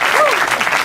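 Audience applause at a software developer presentation, a brief burst of steady clapping filling the room with no pauses.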